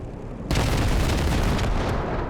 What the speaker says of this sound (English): is that an airstrike coming in?